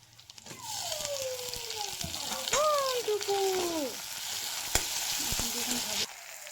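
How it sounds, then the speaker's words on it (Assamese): Chopped tomatoes sizzle in hot oil in a pan with fried ginger-garlic paste, a steady close frying hiss with spatula scrapes and a few knocks, no talk. "বিলাহীখিনি গলি গৈছে নিমখ দি অলপ দেৰি ভাজি ল'লোঁ"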